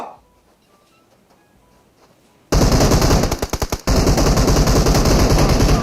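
PUBG Mobile gunfire: a quiet lull, then a sudden loud burst of rapid automatic shots, a brief break, and more sustained firing close up.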